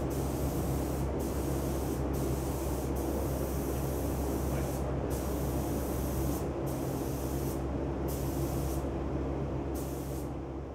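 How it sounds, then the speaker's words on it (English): A spray gun hisses steadily as a part is coated inside a paint booth, a loud continuous rush broken by several brief pauses where the trigger is released. "Then I take it into the paint booth, tape it off, and spray it."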